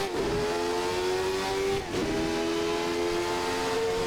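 Jordan 191 Formula One race car in a racing video game accelerating at full throttle, a loud steady high-pitched engine howl with rising harmonics and a brief dip from an upshift near the middle.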